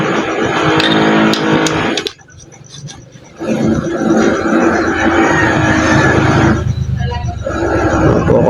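A small engine, a Rusi Gala motorcycle with a freshly cleaned carburetor, runs loudly and steadily close by, dipping briefly to a quieter idle before revving back up, with occasional voices mixed in.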